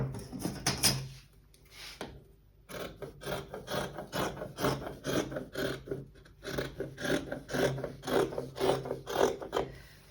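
Scissors or a cutter working through a fabric pattern piece during garment making, a steady series of close, rasping snips and rubs repeating in quick rhythm with a short pause early on.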